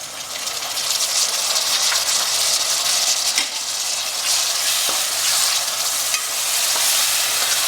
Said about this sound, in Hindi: और इसका बढ़िया मसाला तैयार करेंगे, अच्छा भून लेंगे।